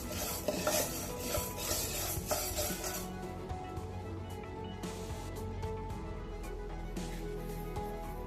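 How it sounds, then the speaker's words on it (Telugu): Urad dal being fried in a pan for a spinach curry, with a soft sizzle under repeated metal spoon stirring and scraping against the pan, close and fairly quiet, no voices. "మినప్పప్పు బాగా ఫ్రై చేసుకోవాలి."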